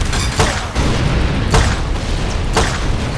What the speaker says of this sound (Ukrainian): А, та це не кулемет, це прям гранатомет якийсь невеличкий.